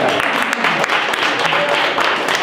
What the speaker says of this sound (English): Can we give applause for Katie?